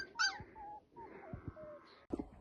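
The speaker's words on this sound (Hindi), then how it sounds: "देखो यहाँ पे इतने सारे बच्चे कुत्ते के।" Several puppies in a village yard whimper and yip in short, thin high cries, a few overlapping near the start and more scattered later, with a soft background between them.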